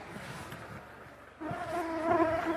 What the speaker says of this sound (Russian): мне убрать надо, комары съели